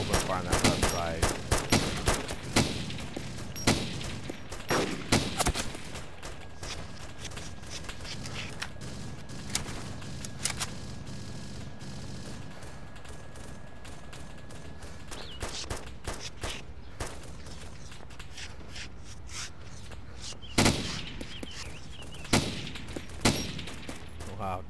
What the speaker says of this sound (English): I'm opening fire on them.